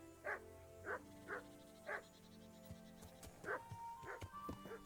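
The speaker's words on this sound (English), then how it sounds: "Loud dog." A dog at a farmhouse in the video game Kingdom Come barks repeatedly, six or so sharp barks at irregular intervals over faint ambient game sounds.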